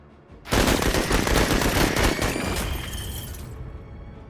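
Gunfire erupts in the video game Menace, a loud rapid burst of automatic shots with crashing impacts for about three seconds, then a fading rattle and ring-out.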